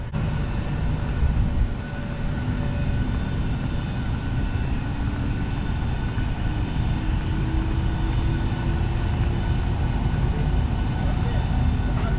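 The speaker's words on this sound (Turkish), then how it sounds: "Evet uçağımız karşıda" A constant low roar of an airplane engine fills the whole stretch, steady and heavy, with faint talk mixed into the drone, in Gdańsk, Poland.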